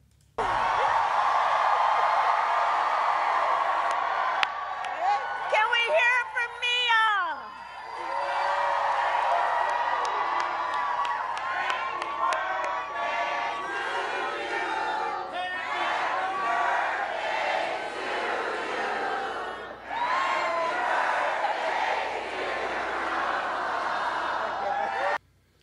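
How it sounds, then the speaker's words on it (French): A large crowd at a Kamala Harris speech sings happy birthday to her, a loud sustained chorus of many voices with cheering and some laughter mixed in, briefly dipping before swelling again. "la foule a spontanément commencé à lui souhaiter un joyeux anniversaire"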